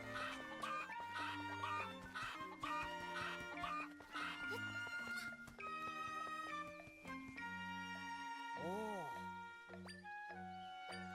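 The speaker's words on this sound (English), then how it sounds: "You can't bind the cuckoos." Cucco chickens cluck repeatedly in the Zelda: Echoes of Wisdom video game, set against busy, loud game music with a steady beat that runs throughout.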